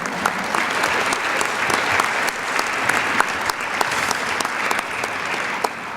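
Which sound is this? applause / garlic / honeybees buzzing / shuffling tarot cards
applause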